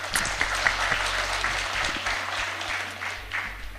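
Audience applause at a Yörük Türkmen workshop event in Antalya, a steady patter of clapping from a moderate crowd, fairly even throughout with slight swells.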